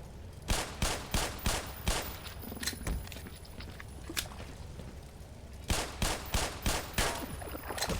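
Gunfire in Black Mesa, fired at pesky barnacles: two bursts of evenly spaced sharp shots, the first of about six, then a quieter stretch, then a second burst, close and with no talk.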